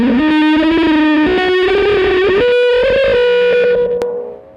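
Electric guitar with a delay pedal feeding a Big Muff fuzz plays a short rising lead phrase, dense and distorted with smeared repeats blurring the notes, ending in a sharp click and fading tail.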